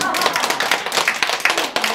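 Close, steady applause from a small church congregation, brisk overlapping claps filling the whole moment.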